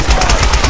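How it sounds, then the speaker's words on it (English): Rapid gunfire bursts from the Tomb Raider video game, a loud, dense run of automatic shots in quick succession with no pause across the brief moment. "Some rapid fire."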